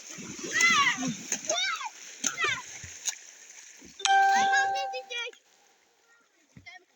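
Water splashed onto a man outdoors by children, with several bursts of splashing mixed with excited kids' voices, shouts and chatter close by.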